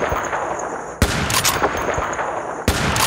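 Two sharp, loud gunshots about a second and a half apart ring out over a constant hiss of background noise in a zombie apocalypse video game. No voices are heard.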